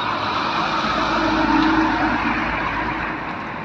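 An intercity bus passes on a road at night, a loud, close roar of engine and tire noise that swells to a peak midway and slowly eases off, with no voices.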